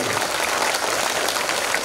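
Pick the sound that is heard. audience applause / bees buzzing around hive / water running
audience applause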